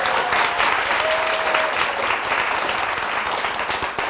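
Dense, steady applause from an audience at a Korean lecture, clapped as a test vote, filling the whole stretch at a loud, even level with a faint tone briefly audible beneath.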